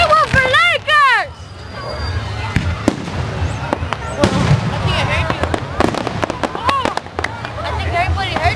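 Fireworks show in Rosemead Park: repeated sharp bangs and crackling bursts with whistling rockets rising, fairly close, over a cheering, chattering crowd.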